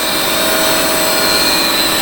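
An internal grinding machine grinds a cone in a workshop, producing a loud, steady, high whirring hum with a faint whine that holds constant throughout, with no voices.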